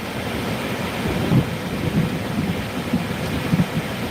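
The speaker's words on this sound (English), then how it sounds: "You can hear these bolts just screaming down." Thunder from a lightning storm rolls as a steady low rumble with several deeper swells, mixed with rain and wind noise, loud and continuous throughout.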